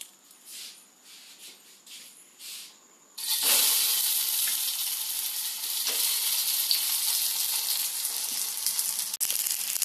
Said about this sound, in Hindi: तो आप टिकिया बनाते समय सरसों तेल में ही सेकिएगा फ्रेंड।